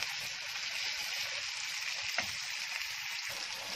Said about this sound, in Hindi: चिकन को प्याज में डालने के बाद तकरीबन 5-6 मिनट तक ऐसे फ्राई करेंगे इसको